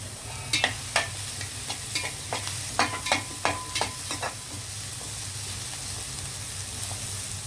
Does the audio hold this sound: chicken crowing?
no